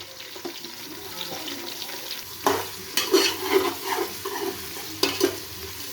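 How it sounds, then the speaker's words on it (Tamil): Chopped onions and green chillies sautéing in a pan for mutton biryani, with steady soft sizzling, a few stirring scrapes and clatter, and nearby water splashing in the background; no talking. "இப்போ நம்ம ஆனியன் கட் பண்ணி வச்சுருக்கோம் பொடியா, அது ஒரு 3 பச்சை மிளகா ஒன்றா சேர்த்துக்குவோம். சேர்த்து இதை நல்லா பொன்னிறமாக வதக்கணும்."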